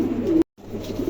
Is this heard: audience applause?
no